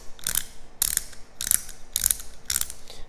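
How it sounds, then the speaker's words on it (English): A 3D-printed ratchet mechanism clicks five times in a steady, roughly half-second rhythm, each burst a sharp, close, dry rattle of plastic gear teeth and pawl, with quiet gaps between and no talking. "So you can hear the gears in there, or the ratchet."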